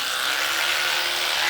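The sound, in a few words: brushing teeth with a toothbrush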